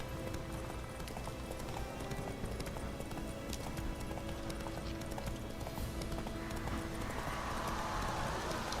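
Roach, Geralt's horse in The Witcher 3, trotting along a trail, a steady rapid clip-clop of hooves under a constant wash of game ambience, fairly quiet and continuous.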